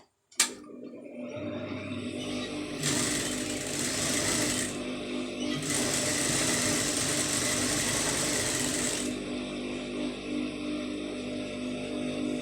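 A sewing machine stitches a scallop design sleeve, running as a steady, close mechanical whir for several seconds, with two stretches of louder, brighter stitching in the middle.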